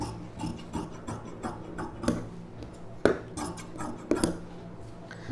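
Scissors snip through silk cotton blouse fabric in a series of crisp, close clicks and short crunching cuts, irregular in rhythm with a few louder snaps, alone without talk.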